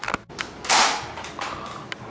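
A Nerf blaster fires a shot into a watermelon: one sharp, loud crack-like burst with a short noisy tail, followed by fainter clicks and handling noises close by.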